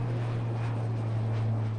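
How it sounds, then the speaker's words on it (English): A small airplane drones in flight, a steady engine hum with a constant low tone, even and unbroken at moderate loudness, with no voices. "There are small planes."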